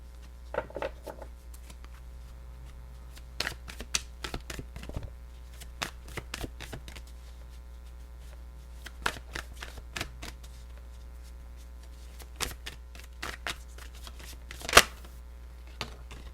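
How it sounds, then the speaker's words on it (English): Soft, papery tarot card shuffling with scattered riffles and slides over a steady low hum, fairly quiet and close, no talking. "But I'm going to shuffle more for this one"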